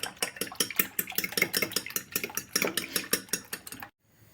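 A fork beats eggs rapidly against a bowl in a fast, steady clatter of metallic clicks, close by, stopping abruptly near the end.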